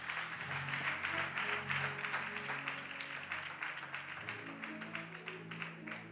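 A church congregation claps in praise, a fairly soft, rhythmic patter of hands over sustained organ or keyboard chords, the clapping fading slightly toward the end.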